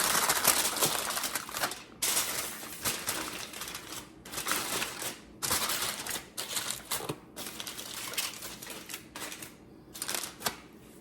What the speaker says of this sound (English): I'm going to cover these with foil.